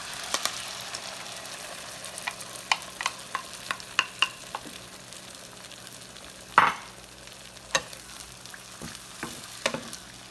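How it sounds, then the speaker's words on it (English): Scrambled eggs with bacon and green onions frying in a pan, a continuous sizzle broken by repeated clicks and scrapes of a stirring utensil, close and alone without speech. "Okay, so here we go with our scrambled eggs."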